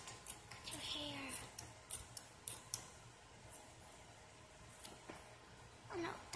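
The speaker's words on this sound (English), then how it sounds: "so now I could cut your hair" Scissors snip at hair during a children's haircut, giving a series of small, close, irregular clicks and snips with quiet pauses between them. Faint voices and soft background noise sit underneath.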